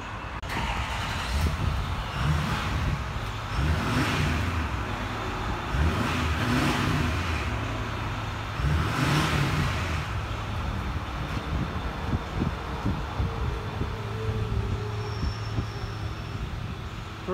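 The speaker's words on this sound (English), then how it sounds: "Let you guys hear it in a minute. There it is where we deleted the muffler." A 2008 Ford F-250 with a 6.4L diesel and a deleted muffler rumbles deep and throaty, rising in several revving swells before settling back to a lower drone.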